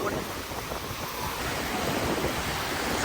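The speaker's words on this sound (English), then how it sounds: "The waves are really big right now." Big cold ocean waves breaking on a beach, a close, steady roar of surf and wash with wind noise, no talking.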